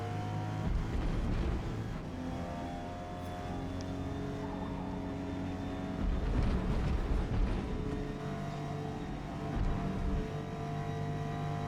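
A Toyota Supra GR race car engine in Forza Motorsport at the Hakone circuit holds a continuous loud, buzzing drone, with revs rising and falling as it shifts and brakes through corners, with no voices.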